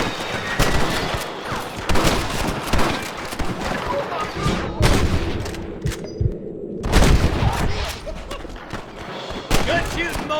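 Dense gunfire rattles through a Red Dead Redemption shootout at a station. Rapid shots and volleys are close and loud, with a brief lull midway, and voices shout over the shooting.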